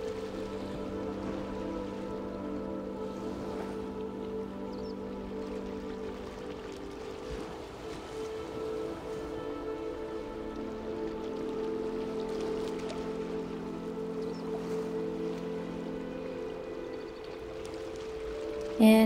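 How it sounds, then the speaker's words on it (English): Ocean waves wash steadily along a beach in Panama, a continuous, even roar of surf close by that runs the whole time, with a soft tonal backdrop and no talking. "hearing the sounds of the waves"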